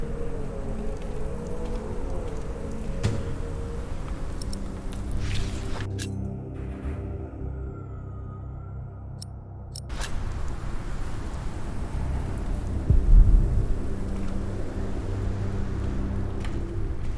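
A storm with heavy rain in an audio drama set around a medieval cathedral: a steady, dense rain wash fills the scene, briefly drops to a quieter interior hush in the middle, then returns with a low rumble.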